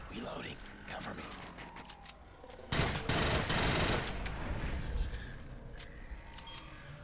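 Rapid automatic fire from the LS-12 SMG sidearm in the shooter Killzone Shadow Fall, a loud dense burst in the middle among scattered shots and game noise.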